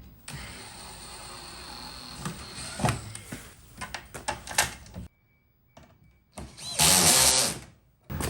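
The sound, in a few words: power drill drilling hole to mount rear diffuser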